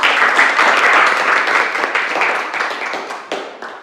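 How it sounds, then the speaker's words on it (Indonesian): Children in a classroom clap together in a loud burst of applause that gradually thins and tapers off, with a few scattered claps at the end. "Berikan aplaus dulu."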